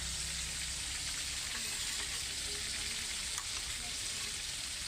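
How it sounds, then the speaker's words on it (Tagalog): Tilapia fish frying in hot oil gives a loud, dense, unbroken crackling sizzle that holds steady throughout, close by, with no voices. "Ang lulutuin natin ngayon ay pritong tilapia"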